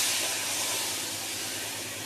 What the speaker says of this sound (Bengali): এই দেখুন সর্ষেটা দিয়ে পরে পুরো ফুটে গেছে।